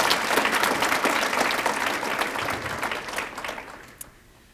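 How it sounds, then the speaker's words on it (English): Audience applause at an evening awards ceremony for students, a dense round of clapping that stays steady, then thins and fades out over the last second. "let's give her a round of applause"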